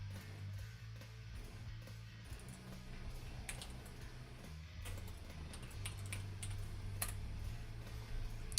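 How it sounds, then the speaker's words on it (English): Click-clack of a computer keyboard being typed on indoors, quick irregular bursts of key taps with short pauses, soft and close over a low steady room hum. "She heard the click clack of the keyboard"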